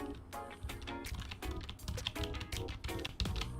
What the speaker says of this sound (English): that's me tap and undo on my keyboard